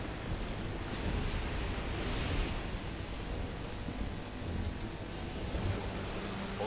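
Storm and heavy rain in the video game Risen 2, a steady broadband wash of downpour and wind with a low rumble that holds evenly throughout, with no voices.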